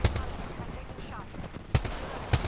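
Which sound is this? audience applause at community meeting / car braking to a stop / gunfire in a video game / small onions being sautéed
gunfire in a video game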